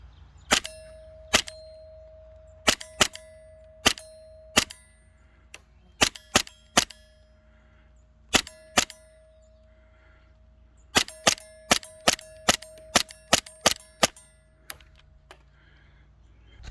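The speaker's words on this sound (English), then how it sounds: "we'll shoot a magazine together" A full magazine from a pistol is fired in sharp, loud, close cracks, about twenty in all, some spaced out and others in quicker runs, several followed by a short metallic ring.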